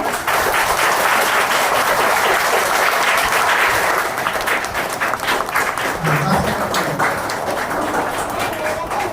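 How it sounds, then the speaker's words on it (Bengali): Loud, dense applause from a large audience at a Rabindranath cultural programme rolls on without a break for about nine seconds. It is close and steady, with some voices blended into the clapping. "জোরে হাততালি দিবেন আমরা"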